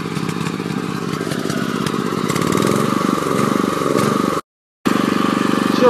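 A petrol electric generator converted to run on gas drones steadily and loudly with a busy, rattling engine tone, then cuts out for a split second before resuming.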